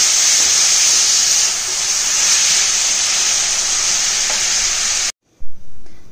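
Mushrooms hitting hot oil in a kadai give a loud, steady hiss and sizzle for about five seconds, then cut off abruptly into near silence with a couple of faint knocks.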